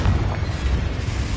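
A Confringo blasting spell explodes in a Hogwarts video game, a deep booming blast with a rumbling low tail, loud and close with no voices.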